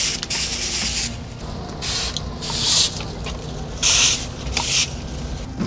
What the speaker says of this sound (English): I take each individual leaf and I spray the top